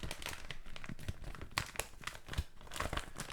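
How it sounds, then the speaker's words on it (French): A parcel holding a Logitech G502 Hero mouse is unpacked up close, with loud crinkling and rustling of packaging, some tearing, and irregular crunchy bursts, with no talking. "Donc voici le colis qu'on va déballer ensemble"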